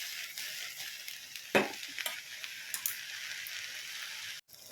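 Onion, green chilli and gongura leaves frying in hot oil for a tempering, a steady soft hiss and crackle with a few sharper clinks of stirring, close and alone.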